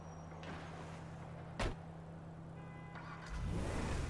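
A damaged Ford F-250 pickup in GTA 5 idles with a low steady hum, a sharp knock cuts in midway, then the engine turns over and rises into a louder rumble at the end.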